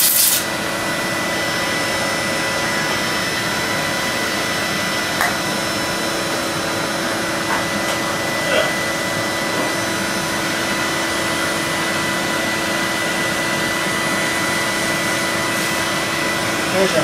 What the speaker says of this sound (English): I'm vacuuming off the flyback.